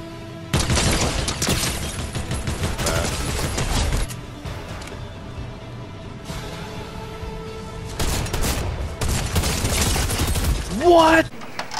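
Video game gunfire rattles out in two long, loud rapid volleys separated by a quieter lull, ending with a short final burst, and a voice can be heard underneath.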